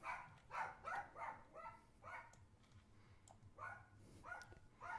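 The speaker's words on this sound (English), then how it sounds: "the dog is barking" A dog barks repeatedly in quick, uneven bursts, somewhat distant and muffled indoors, with low background rumble and no talking between the barks.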